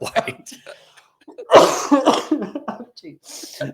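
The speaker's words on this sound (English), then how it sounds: "I'm not sick anymore, but I can't get rid of this cough" A man coughs several times in short harsh bursts, close and loud, with talk and laughter mixed around the coughing while whiskey is being tasted.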